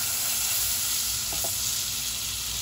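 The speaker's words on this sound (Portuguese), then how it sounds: "Comecei a fritar aqui, ó. Fritando o bichinho." Meat fries in butter in a pan on a home stove, a loud continuous sizzle with a couple of brief louder crackles midway.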